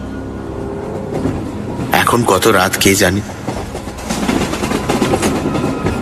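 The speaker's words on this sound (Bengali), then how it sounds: "ট্রেনের নির্দিষ্ট তালের শব্দ ছাড়া আর কোনো শব্দ কোথাও নেই" Train wagon rattling along with a steady clickety-clack at night, loud and continuous, with a burst of heavier clatter partway through; someone speaks quietly over it.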